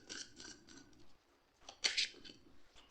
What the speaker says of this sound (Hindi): Let me take one more card.